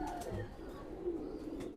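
Pigeons cooing among many kept birds, soft low coos close by but faint, with a light rustle in the background.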